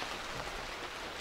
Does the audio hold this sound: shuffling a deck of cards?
no